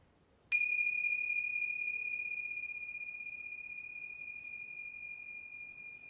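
A pair of Tingsha bells struck once during a guided meditation gives a single bright clash that rings on as a pure, slowly fading tone over a quiet room.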